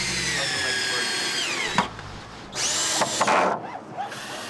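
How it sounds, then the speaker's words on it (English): A power drill driving deck screws into joists during a roof and deck job, two whining bursts with a rising and falling pitch, close and loud, with a voice faintly heard underneath. "We are using deck screws. Screws hold better."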